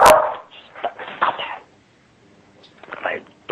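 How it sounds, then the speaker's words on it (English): A blind dog barks and huffs in a few close, sharp bursts separated by quiet gaps, with a cough-like or throat-clearing quality to some of the calls. "My blind dog."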